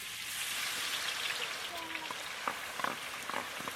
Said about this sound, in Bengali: এবার ক্রিপসি ভাবে আলুটা ভেজে নেব।